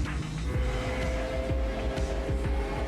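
Racing car engines in the Gran Turismo 7 video game trailer, a continuous loud engine drone with several sharp gear-shift or revving changes, cars sounding close, no talking over it.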